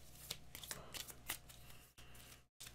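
Maracaibo board game career cards shuffled at close range, a few quick papery riffles and snaps, then a brief pause before a final short shuffle.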